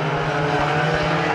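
Banger racing cars roar round the Mildenhall track during a Good Friday teams heat, a loud, continuous engine drone with no break.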